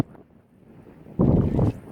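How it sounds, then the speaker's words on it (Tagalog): Wind buffets the microphone at the seashore before sunrise, a low rumbling gust that swells loudly near the end after a quieter stretch. "Dahil ang dagat, dahil mahangin."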